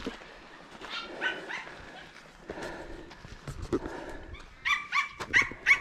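A dog barks several times on a mountain hiking trail, sharp bursts growing louder toward the end over rustling footsteps and outdoor ambience.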